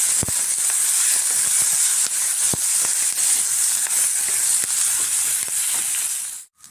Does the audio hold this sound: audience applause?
no